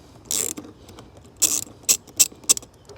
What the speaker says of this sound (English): I'm going to just open up the clamp